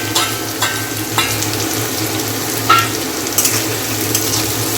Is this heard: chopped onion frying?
yes